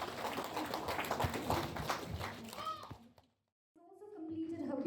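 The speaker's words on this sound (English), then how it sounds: "Please give them a huge round of applause as well" An audience at a school award ceremony gives a sustained round of applause that fades out, followed by a brief silence and then voices speaking.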